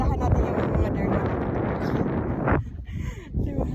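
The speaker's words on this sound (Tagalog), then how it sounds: "Pero mahangin." Strong wind buffets the microphone outdoors in a deer park, a loud rumbling roar that gusts unevenly before easing into quieter, broken gusts.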